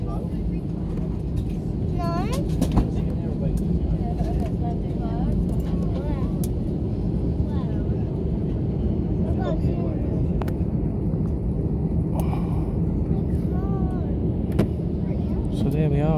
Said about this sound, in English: Just landing on a Ryanair.